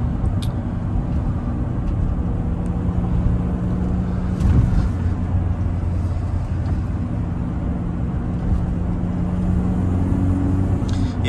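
A 2004 Mini Cooper cruises in fourth gear at 50 mph behind other cars, giving a steady low engine drone and road rumble inside the cabin with no talking.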